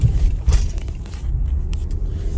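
Car driving, heard from inside the cabin: a steady low road rumble and engine drone with a few faint knocks and scrapes, fairly loud and constant, without speech.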